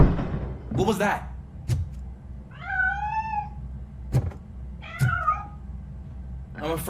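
A cat meows twice in the video game RoboCop: Rogue City, each call clear and drawn out. Sharp knocks and thuds sound before and between the meows.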